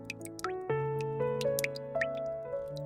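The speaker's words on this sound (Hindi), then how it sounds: "अचानक छत से पानी की बूंद गिरती है।" Water drips from a leaking roof in a run of bright, plinking drops, several falling in quick, uneven succession, close and clean over a quiet background with no talking.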